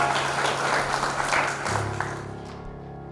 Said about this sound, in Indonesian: Tepuk tangan yang bagus